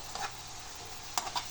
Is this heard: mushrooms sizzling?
yes